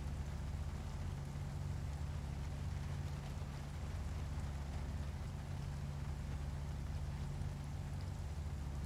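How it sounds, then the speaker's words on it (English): Rain falls steadily in Project Zomboid as a constant, soft hiss over a low, continuous hum, with no distinct breaks. "Is it always this rainy?"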